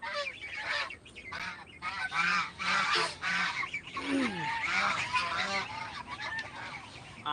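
A domestic duck gives repeated loud honking, nasal calls at close range, with other fowl calling and quacking around it in a continuous busy chorus.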